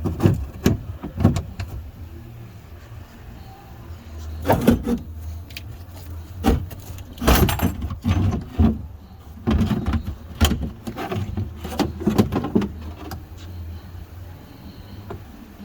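Plexiglass pieces are pried out of a 1996 Dodge Viper, with irregular clicks, creaks and sharp plastic snaps that come in scattered clusters over a low background hum, close up and without talk.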